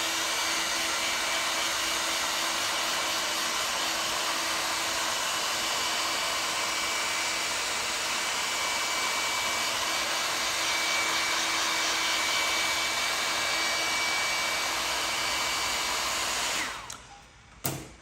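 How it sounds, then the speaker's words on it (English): A hair dryer drying dye on a leather jacket blows with a steady, loud whooshing roar for a long stretch, then cuts off abruptly near the end. "use a little hairdryer, just help really get it gone fast"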